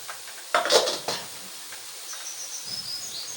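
About 2.5 to 3 kg of mutton goes into a pot for an Eid mutton salan with a brief burst of metallic clatter, then a faint sizzle and quiet kitchen sounds.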